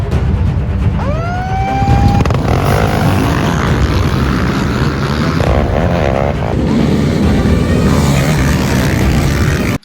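A 1986 250R racing engine revs loudly and close during a race, its pitch climbing sharply, dropping, and climbing again in repeated throttle blips over a continuous roar.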